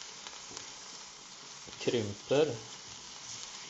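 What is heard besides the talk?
mushrooms frying in a pan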